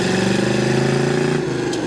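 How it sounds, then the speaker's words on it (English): A 1970 Chevrolet Nova SS big block with a stock-style muffler burbles at idle with a loud, steady low rumble and a fairly mild, muffled tone; no talking. "Should hear the exhaust a little bit."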